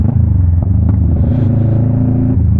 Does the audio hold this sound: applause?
no